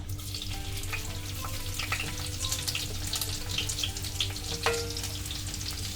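Garlic and curry leaves frying in oil: a continuous, dense crackling sizzle with scattered pops, steady and close throughout.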